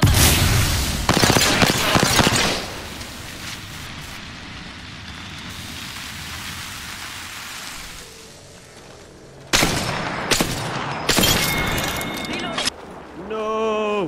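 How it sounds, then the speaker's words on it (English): A thermite grenade in Apex Legends, heard as loud bursts followed by a steady, rain-like crackling hiss as it burns, with further sharp blasts and game sounds later on. "Throwing thermite."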